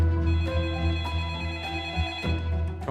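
An unanswered telephone call in a Korean crime documentary reenactment produces a steady tonal ringing that pulses gently and continues throughout, loud and alone.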